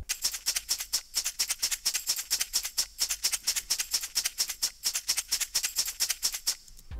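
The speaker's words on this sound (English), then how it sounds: "to fill it out even more, there's some shakers and some tambourines" Rapid rhythmic shaker and tambourine hits jingle in a steady, busy pattern, bright and fairly quiet, looping without any voices.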